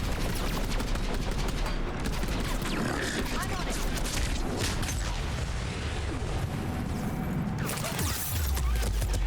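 Gunfire in the Mass Effect 3 video game, a dense fusillade of rapid shots and booms rattling on without pause, with voices talking over it.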